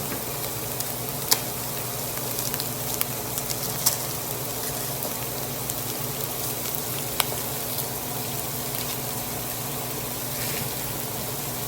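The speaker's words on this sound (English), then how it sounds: "the onions are starting to cook and they're getting a little close" Onions fry in a pan with a steady, close sizzle and crackle, occasional louder pops breaking through the continuous hiss.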